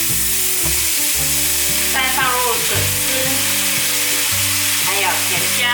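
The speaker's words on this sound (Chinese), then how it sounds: "放入高丽菜，再放入笋丝" Cabbage, shredded bamboo shoots, straw mushrooms and enoki stir-fry in a pan for a vegan dish, a loud steady sizzle with brief stirring sweeps, heard under melodic background music.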